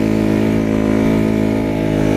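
A 2018 Yamaha YZ450F dirt bike engine runs at a steady, loud idle or low rev nearby, a constant throbbing drone with no talking, on a forest access trail.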